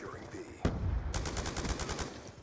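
Rapid automatic gunfire in Call of Duty Black Ops 2 on the Nuketown 2025 map, a sharp opening shot followed by a dense stream of bursts fired to bring something down.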